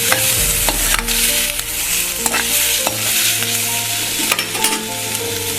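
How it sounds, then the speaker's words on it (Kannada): Mutton masala frying in oil in a pan, a steady close sizzle broken by repeated scraping stirs of a utensil against the pan, with no voices. "ಸಾಕಿದೆ ಎಣ್ಣೆಯಲ್ಲಿ ನೀಟಾಗಿ ಫ್ರೈ ಆಗಿದೆ ಸ್ನೇಹಿತರೆ"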